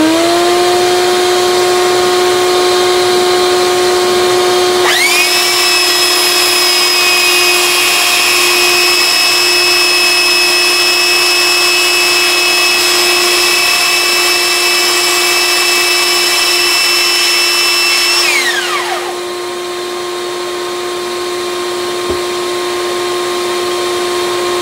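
A handheld sander works on a Martin LX1 acoustic guitar body while a dust vacuum runs, a loud steady whine starting a few seconds in, holding for about fourteen seconds, then winding down, with a lower vacuum hum continuing throughout.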